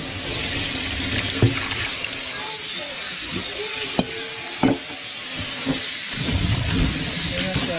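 Seaweed washed by hand under running water in a home kitchen: a steady hissing stream with occasional wet splashes and soft knocks, close and fairly loud throughout.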